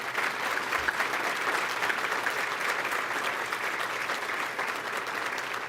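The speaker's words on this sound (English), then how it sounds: "So if we can just get a big round of applause for not only our cooks," A crowd applauds steadily, a dense, even clatter of many hands clapping that holds at a consistent level throughout.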